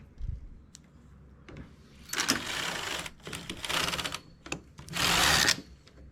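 Knitting machine carriage pushed across 40 needles with yarn of a new colour, giving two loud, close, rattling mechanical sweeps amid softer clicks and clacks, with no voices.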